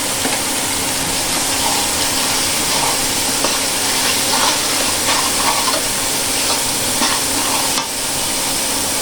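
Spices, including red chili powder and Kashmiri chili powder with salt, sautéed and stirred in a pan, a loud, continuous sizzle with repeated scraping strokes of a spatula throughout.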